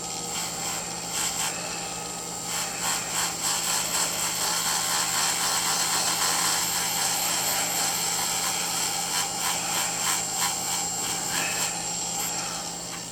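A sander polishing a fossil sand dollar echinoid (Dendraster gibbsii from Southern California) gives a steady, loud grinding whir with a pulsing rasp as the piece is worked, with no talking.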